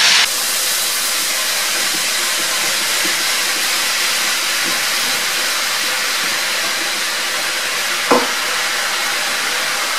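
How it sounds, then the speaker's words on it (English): Leek and bacon sautéing in a pan, a loud, steady, broad hiss and sizzle held close, with an occasional faint clink of a utensil. "So, just going to sauté these down a bit, because this is going to be the base of the flavour for my quiche."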